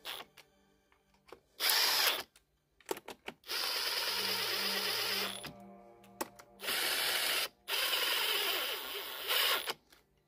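Cordless power drill driving bolts into the recoil starter of a Rotakt 43cc 1E40F brush cutter, several separate bursts of whirring near and loud, with small clicks and handling noises in the pauses between.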